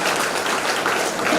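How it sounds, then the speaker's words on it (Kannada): Audience clapping at a staged cultural performance, a dense, steady wash of many hands applauding at once, loud and close throughout the short burst. "ಚಪ್ಪಾಳೆದ ಶಬ್ದ"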